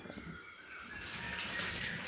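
Buttermilk poured over curd chillies soaking for mor milagai, a steady liquid pouring and trickling noise that swells slightly louder over a couple of seconds, close and alone.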